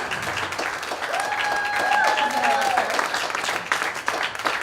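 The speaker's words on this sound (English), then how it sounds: "So please give a round of applause." Crowd applause at an outdoor climate march in Franklin, a continuous dense patter of clapping with a faint whistle or cheer rising over it midway.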